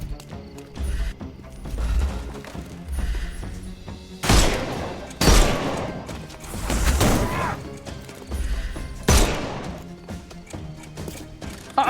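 Gunfire crackles through a Sherlock Holmes game scene, several loud bursts of shots amid clattering mechanical noises and busy background action.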